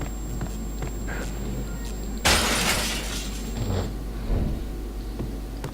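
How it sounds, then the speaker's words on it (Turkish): A television screen shatters in the video game Max Payne, one sudden loud burst of breaking glass that rings and crumbles for about a second over quiet background ambience, with small crunching debris afterward. "Kırılan televizyondan geliyordu o ses yalnız"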